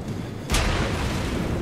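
A World of Warships Cleveland cruiser fires its naval guns: one sudden loud boom that rolls into a sustained low rumble and broadband roar for over a second.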